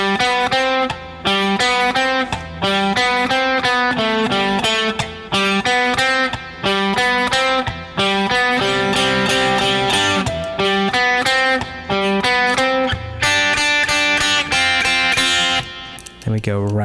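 Guitar plays a song with dense, loud strummed chords in a steady driving rhythm, close and continuous with brief gaps between strums.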